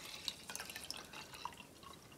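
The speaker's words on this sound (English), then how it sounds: "all I do is pour straight white vinegar" Straight white vinegar is poured into a container in a workshop, making a faint, steady trickle with light splashing and scattered drip-like plinks, heard alone without any talk.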